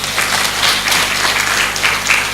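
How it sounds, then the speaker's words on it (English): A round of applause at the Nigeria Internet Governance Forum, a dense and loud burst of many hands clapping together from a conference audience, with no one speaking over it. "A round of applause for them"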